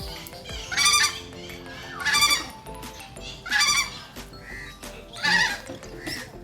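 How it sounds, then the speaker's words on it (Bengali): Geese honk in four loud, evenly spaced bursts of harsh calls close by, with steady farmyard background between them. "এই যে রাজহাঁস"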